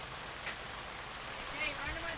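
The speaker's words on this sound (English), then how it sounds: "Was this rain supposed to happen?" Rain falls as a faint, steady hiss that continues throughout, with quiet muffled voices underneath.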